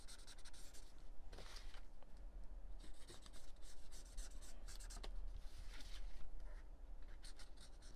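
A white pen drawing a border on a mixed media page makes a soft, continuous scratchy rubbing, close and faint, with short strokes repeating in an irregular rhythm.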